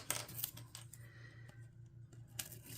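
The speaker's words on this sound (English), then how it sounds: "I'm just going to cut right down the middle, through the middle of that tape." Scissors cut down the middle of the tape holding a journal cover together, producing a few sharp snips and small rustles close by over a low background hum.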